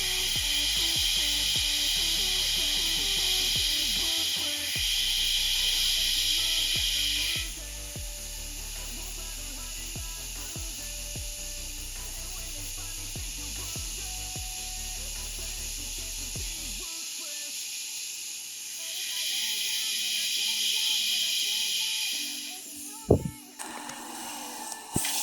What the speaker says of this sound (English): Now we'll come in with the heat gun